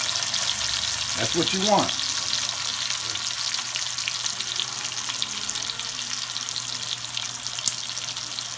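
A pot roast sears in a very hot pan of vegetable oil, giving a steady, loud, close sizzle throughout. Someone briefly speaks over the frying near the start.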